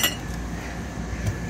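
Silverware and dishes clink and rattle as a kitchen drawer is handled in a 2017 Fleetwood Bounder RV, a short close burst of metallic jingling with no talking.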